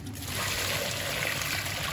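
Pond water tipped out of a container onto a garden, a soft steady trickling and splashing pour outdoors, fairly quiet and unbroken, with no speech.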